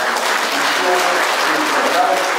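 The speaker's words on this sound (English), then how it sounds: "give once again a standing ovation and a really big round of applause for all our guests" Sustained audience applause at a National Youth Day celebration, a loud dense wash of clapping from a large crowd filling the whole stretch without a break.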